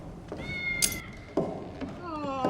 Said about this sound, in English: There's another kitty.